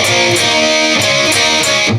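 Distorted electric guitar riff plays loud and saturated, with sustained gritty chords and a few rhythmic accents before cutting off.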